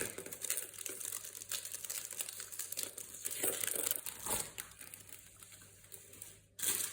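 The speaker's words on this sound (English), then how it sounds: "I'm going to carefully peel off this plastic" Plastic film is peeled slowly off paint-coated masking tape nearby, giving a faint, continuous crinkling and crackling with small bursts and a brief pause near the end, no voices.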